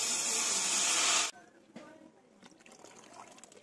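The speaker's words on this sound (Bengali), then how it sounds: "দিয়ে দিচ্ছি জল" Water is poured into a hot pan of fried spice paste and potatoes with a loud, bright hiss and rush that cuts off abruptly, then settles into quieter bubbling and sizzling.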